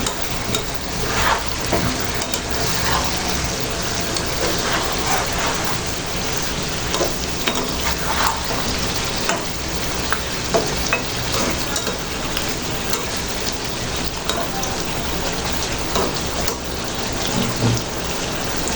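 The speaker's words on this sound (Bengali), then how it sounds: "ঢাকনাটা সরিয়ে আবার একটু নেড়ে ছেড়ে দিচ্ছি।" Pumpkin and prawn curry is stirred in a pan with the lid off: steady scraping and stirring over a continuous loud sizzle of frying spices, with no voices.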